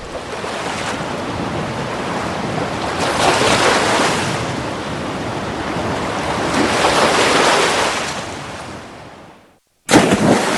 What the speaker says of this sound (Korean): 그때 갑자기 왕자님을 태운 배가 파도에 휩쓸리기 시작했어요.